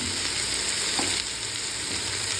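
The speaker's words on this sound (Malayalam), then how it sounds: "ഇങ്ങനെ സവോള എല്ലാം ഇളക്കി കൊടുക്കും" Sliced onions sautéing in a pan for a fish roast, giving a continuous even sizzle with a faint stirring scrape, close and steady.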